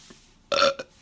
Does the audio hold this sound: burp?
yes